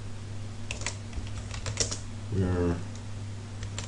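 Quick, light clicks of a computer keyboard as text is typed into a box, soft and close, with a brief flurry near the middle, heard under a steady low hum while a voice speaks briefly.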